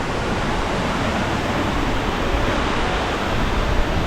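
Vista Creek rushes along a mountain hiking trail, a loud, dense and unbroken wash of flowing water close by with no other sounds standing out.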